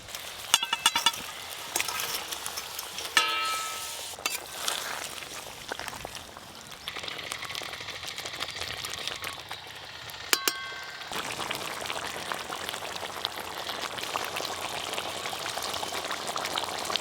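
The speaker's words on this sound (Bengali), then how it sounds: "গ্রেভি তো বেশ ভালো করে ফুটে গেছে। ভেজে রাখা সব তেলাপিয়া মাছগুলো দিয়ে দেব।" Gravy for pond tilapia curry bubbling in a pan as fried tilapia pieces go in, a steady soft seething with clinks of utensils and splashes, the sizzle growing denser partway through.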